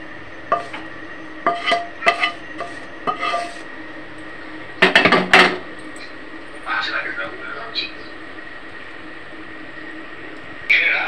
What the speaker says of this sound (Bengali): সব সমেত ভালো করে মেখে নেব।